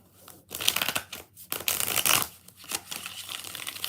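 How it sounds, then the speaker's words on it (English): A deck of tarot cards is riffled and shuffled by hand in several quick bursts of papery fluttering and slapping, close by and moderately loud, with short pauses between shuffles and no talking. "Let's get this deck. And we'll do 6 shuffles."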